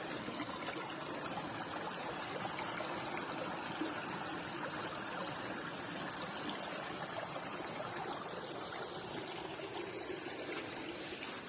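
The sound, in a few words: water trickling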